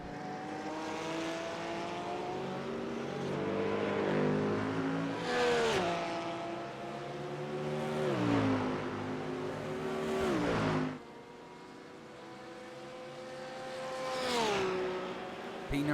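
Race cars roar past at the Charlotte Roval, several engines rising and falling in repeated passes with swooping pitch shifts, loud and close, one sweep cutting off abruptly before another car approaches.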